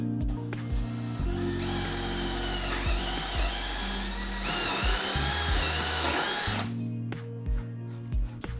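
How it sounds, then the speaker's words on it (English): A power drill bores a hole through an oak workpiece for a workbench base, giving a loud, close, continuous whine that rises and shifts in pitch for several seconds before stopping. "and then drilling through."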